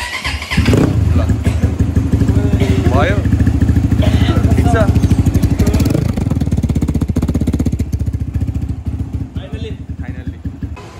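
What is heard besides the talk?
motorcycle engine being started after repair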